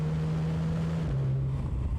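A Mercedes-AMG C63 with a four-cylinder engine in place of its former V8 drones on with a steady low engine note that dips slightly in pitch midway, heard alone and fairly close.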